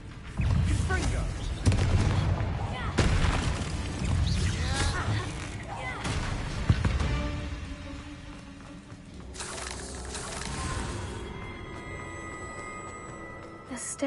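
Explosive spell blasts in a Harry Potter video game go off repeatedly, loud booming bursts amid battle noise and game sounds, with a voice talking over parts of the fight.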